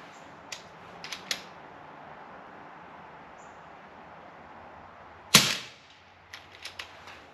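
An FX Impact M3 Compact .177 air rifle firing JSB Knockout slugs, one sharp close crack followed by several faint ticks and clicks, with a few other light clicks earlier against a quiet background.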